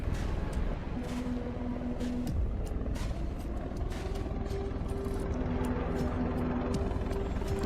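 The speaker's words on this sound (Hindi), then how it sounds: "हेलीकॉप्टर।" A helicopter in an animated series drones steadily throughout, a continuous rotor and engine rumble at moderate volume.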